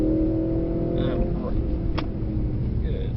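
A Mercedes-AMG C63 S E Performance accelerating at full power on a driving course, its engine giving a loud, steady roar heard from inside the car, with brief higher squeals over the drone.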